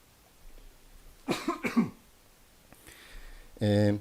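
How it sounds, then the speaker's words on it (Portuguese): A teacher with a sore throat coughs twice in quick succession, close and fairly loud, in a quiet room, followed shortly by a voice starting to speak. "Qualquer tosse aí, desculpa, devido à minha garganta que não está muito boa"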